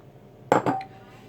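Flour going into a deep bowl while making batter for crispy shrimp fritters: two quick clinks and knocks against the bowl, close and brief, in a quiet room.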